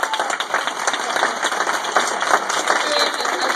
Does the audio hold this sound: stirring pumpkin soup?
no